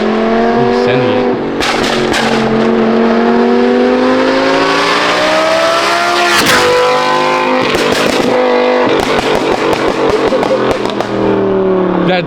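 Loud Audi R8 revving hard, its high, rising harmonic wail sounding like an F1 car, with repeated sharp bursts and cracks between pulls; voices are heard alongside the engine.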